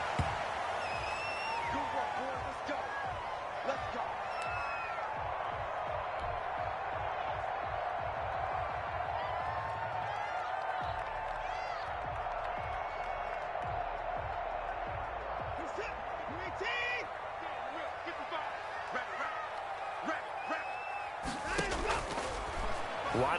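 NFL stadium crowd before a Dallas Cowboys versus Washington Football Team game, a steady broad roar of cheering that holds for the whole stretch, with a commentator talking over it and a sharp burst near the end.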